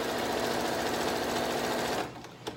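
A sewing machine runs fast and steady, stitching down the sides of a pillow made from dollar-store place mats, its rapid mechanical whir continuing for about two seconds before stopping abruptly with a light clunk.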